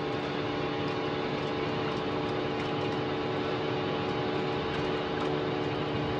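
Airbus A320-200 jet engines in Spirit Airlines livery spooling up for takeoff from KLAX in the RFS flight simulator game, a steady dense whine and roar with sustained tones, loud and continuous with no talking.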